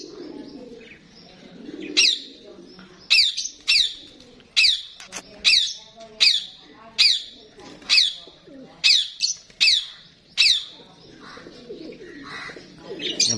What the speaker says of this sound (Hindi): ये देखिए वो उधर तक कबूतर ही कबूतर हैं